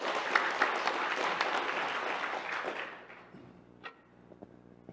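An indoor audience at a Buddhist dialogue gathering claps to welcome a speaker, dense close applause that thins out and fades to a few scattered claps.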